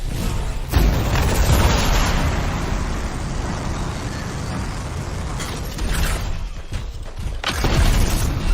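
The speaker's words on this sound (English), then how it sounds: "See those explosions? Take some and blow up the Scar's weapon caches." Weapon caches blowing up in the video game Anthem, heard as heavy, dense rumbling blasts with sharp bursts at the start and again near the end, loud and continuous with no talk.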